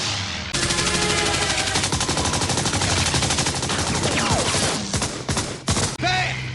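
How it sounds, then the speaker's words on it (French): Machine gun fire in a dramatized scene: loud, close, sustained rapid bursts that run for several seconds, then break into a few separate heavy shots near the end. "il va falloir vous servir de la mitrailleuse"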